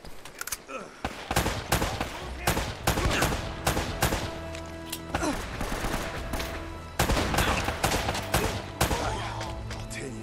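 Enemy gunfire in Uncharted: Drake's Fortune: dense bursts of rapid shots and automatic fire crackle loud and close for several seconds, dropping briefly and then resuming, with a voice talking underneath.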